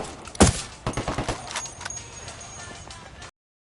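Gunfire in the tactical shooter Ghost Recon Wildlands: a loud close shot, then a quick burst of several rapid rounds and scattered quieter shots, with game ambience beneath.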